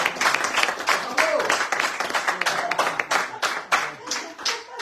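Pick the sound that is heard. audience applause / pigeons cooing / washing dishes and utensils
audience applause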